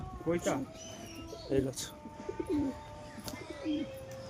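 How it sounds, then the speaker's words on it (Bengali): Pet pigeons on a rooftop coo softly in short repeated calls, with a green-speckled male and a female in the pair, as someone talks quietly over them. "তো এই হচ্ছে আমার বাড়ির কবুতর"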